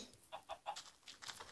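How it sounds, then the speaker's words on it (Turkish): A blocky chicken in Minecraft Pocket Edition survival mode gives a quick string of soft, repeated clucks, faint and evenly spaced, with no talk over them. "Tavuk."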